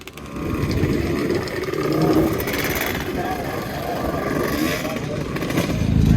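A 250R motorcycle engine revving on sand dunes, a raspy two-stroke buzz rising and falling in the middle distance, with voices talking over it throughout.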